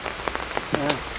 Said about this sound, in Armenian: բայց անձրևը մեր պլանները խափանեց